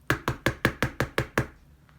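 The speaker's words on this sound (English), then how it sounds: "She was busy at the fire when she heard a knock at the door." Someone knocks at a wooden cabin door, eight sharp, evenly spaced raps that are close and loud, then quiet.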